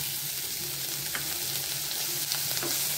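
Green peas sautéing in a hot pan for oats upma, a steady broadband sizzle running the whole time with a few light spoon scrapes, close and alone without voices.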